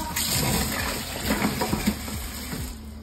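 Water running and splashing while a basket is rinsed out, a continuous close gushing flow with uneven sloshes and knocks as it is moved about under the stream.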